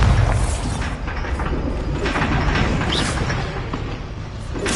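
A Bombarda spell in Hogwarts Legacy goes off as a loud, rumbling explosive boom that fills the whole span, with heavy low-end roar and debris-like crackle.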